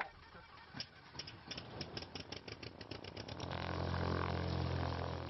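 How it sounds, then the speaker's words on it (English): A small engine on a kit-built airplane cranks with a quick, uneven rattling ticking during an engine test, then catches and settles into a steady, loud running drone for the final seconds. "For a little engine test."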